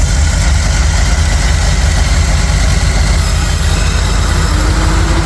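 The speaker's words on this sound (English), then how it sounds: "Electric fans just kicked on." A Jeep engine idling steadily with a ProFlow-controlled electric cooling fan setup kicking on, a constant low rumble with a faint added whir later, no talk.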